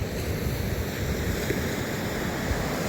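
Pacific Ocean surf rolls onto a long beach at La Push, Washington, a continuous close roar mixed with wind buffeting the microphone, no talking.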